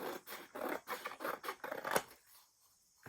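Scissors cut across thick, cardstock-like paper for a junk journal, a run of rhythmic crunching snips, close and fairly quiet, ending in silence.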